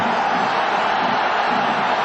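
A football stadium crowd at a 1996-97 Vitória SC versus Parma match roars in sustained cheering, a loud, dense wall of massed voices with no pause or break.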